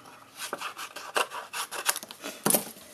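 Scissors snip through paper in a quick run of short crisp cuts, close by, with small rustles between snips.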